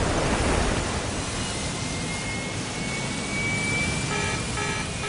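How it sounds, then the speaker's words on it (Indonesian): Aircraft engine roar in a dubbed Ultraman Mebius episode, a dense continuous jet rumble with a slowly rising whine building in intensity. "Suara mesin semakin berisik."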